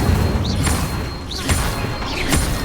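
The Incendio fire spell being cast repeatedly in Hogwarts Legacy, three loud whooshing bursts of flame at roughly one-second intervals over a dense rumbling game backdrop.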